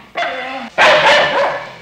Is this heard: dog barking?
yes